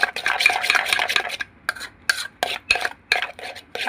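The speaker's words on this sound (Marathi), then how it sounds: "चांगलं फेटून घ्या।" Garlic bread butter mixture being whisked in a bowl, giving rapid scraping and clinking strokes, continuous at first, then broken into short bursts with brief pauses between them.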